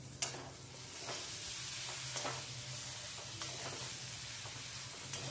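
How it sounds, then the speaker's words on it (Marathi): Paneer pieces stirred in a hot pan, a steady sizzle with soft scraping strokes of the spoon recurring every second or so, close and moderately quiet, no voices. "यात आता आपण घालणार आहोत पनीरचे बारीक तुकडे।"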